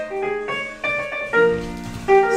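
A short excerpt of recorded orchestra music plays with bright sustained tones and a changing melody at moderate loudness, without talking.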